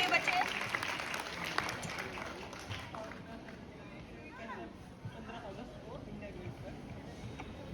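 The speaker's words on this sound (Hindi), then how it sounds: "इनके लिए तालियां बजा दीजिए सभी बच्चे" Schoolchildren clap together for a fellow student: a burst of scattered, fairly close hand claps that is strongest at first, then gives way to talking and chatter with lighter clapping underneath.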